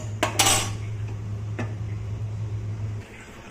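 Roasted moong dal being rinsed in a metal vessel, with a couple of clinking taps and a steady low hum in the background, close and fairly quiet, no speech.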